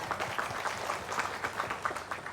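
An audience claps for Kiai Irfan during an Islamic sermon, with a moderate, steady patter of many hands that runs on without pause, heard at some distance.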